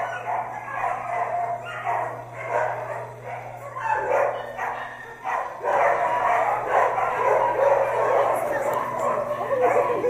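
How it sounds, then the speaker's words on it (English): Many dogs bark, yip and whimper at once inside an animal rescue shelter, a dense, echoing chorus that keeps going and grows louder toward the end. "desperate barks get louder"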